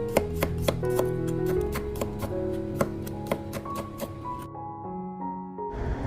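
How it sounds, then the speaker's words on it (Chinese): A knife slices garlic cloves into thin slices on a board while fish is being prepared, giving a steady run of quick, crisp taps over steady background music. "将大蒜切成薄片"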